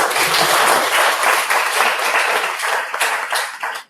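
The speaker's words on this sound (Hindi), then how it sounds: "जोरदार ताली।" College audience at a student speech competition prize announcement gives a hearty round of applause for the third-place winner, loud close clapping that holds steady then fades out at the end.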